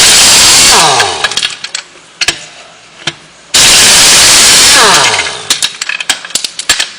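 An impact gun removing tyre lug nuts fires in two loud, harsh bursts that wind down each time, with scattered clicks and rattles of the nuts between them, close up.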